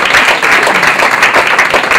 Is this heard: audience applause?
yes